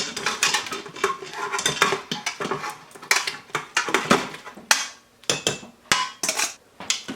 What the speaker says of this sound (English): Go ahead and mix this up.